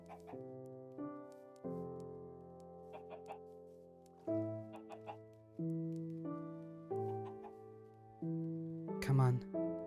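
Clucking chickens in the Minecraft video game: short, repeated clucks that rise above a sustained, tonal musical backdrop, with louder bursts near the end.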